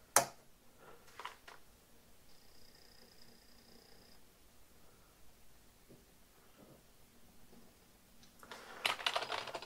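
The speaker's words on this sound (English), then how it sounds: "Plug in the external keyboard." An external keyboard on an Atari XE computer is typed on in sparse, faint key clicks with pauses between them, followed by a louder flurry of keystrokes near the end against a quiet electronic hum.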